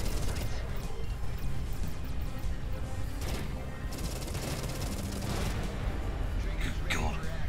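Enemy gunfire in the space combat game Everspace 2 rattles in dense, loud bursts and crashing impacts, continuous across the stretch, with a voice occasionally speaking beneath the barrage.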